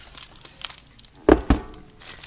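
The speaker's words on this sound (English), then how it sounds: "Let's get the tape off of here." Packing tape is peeled off a Presto electric food dehydrator during unboxing. Soft crinkling gives way to two sharp, close ripping bursts in quick succession.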